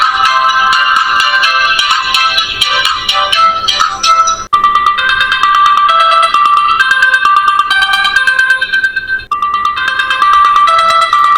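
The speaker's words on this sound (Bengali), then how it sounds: "প্রোফাইলে চলে যাবে রিংটোনের সাউন্ডটা আপনাদেরকে শোনাই কেমন রিংটোন এখানে দেওয়া হয়েছে" A loud melodic ringtone plays from a Proton Bird feature phone, a bright electronic tune of rapid repeating notes that loops continuously for the whole stretch with two brief breaks between phrases.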